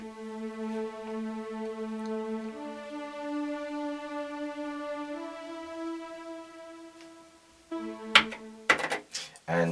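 A synthesized high strings patch from a keyboard plays sustained, layered tones that shift pitch in slow steps, fairly quiet, with clicks and a short voice at the end.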